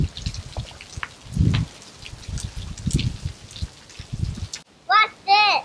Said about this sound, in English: So we are playing in the rain while we wait.